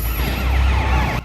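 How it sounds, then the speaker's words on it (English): Wailing police sirens in the open-world game Sleeping Dogs, set in Hong Kong, with several overlapping rising and falling tones over a loud, dense low rumble of traffic, cut off abruptly at the end. "Sirens scream to life."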